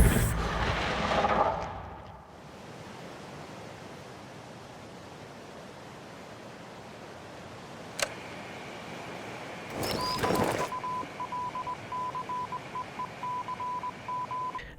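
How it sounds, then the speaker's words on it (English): In Battlefield 1, eerie noise swells and fades, then beeping Morse-code tones begin: a short burst of dots and dashes, rising into a steady, evenly spaced series of beeps over a faint hiss. "And then Morse code will play."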